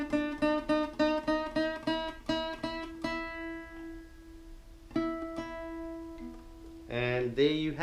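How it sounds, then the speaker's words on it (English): A guitar string plucked repeatedly while being tuned to E, a quick run of even close plucks, then longer ringing single notes, ending with a short strummed chord. "we need to tighten the last string to sound like this"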